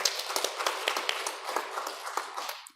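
An audience claps at a Won Buddhist Sunday service at a Gangnam temple. The claps are close and crisp, first rapid and dense, then thinning out and fading to silence.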